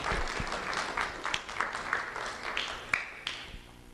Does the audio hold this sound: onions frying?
no